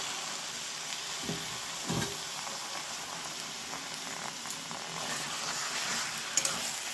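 Chicken pieces frying in spiced oil, a steady close crackling sizzle that runs throughout, broken by a few louder pops and spits.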